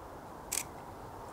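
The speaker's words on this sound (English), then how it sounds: "if I actually activate the shutter, let's see whether it takes 3 frames or not." A single quick click from an Olympus OM-D camera shutter, set to bracket three frames on a two-second timer, short and crisp, stands alone against a quiet background hiss.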